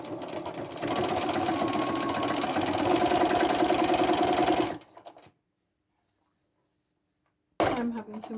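A sewing machine stitches a bag lining together in a fast, steady mechanical rattle lasting several seconds, then stops. A short silence follows before the whirring starts again.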